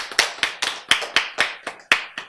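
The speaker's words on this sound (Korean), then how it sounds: "박수" During a Bible lecture, people clap in a steady rhythm of about eight sharp, evenly spaced claps that sound close and clear.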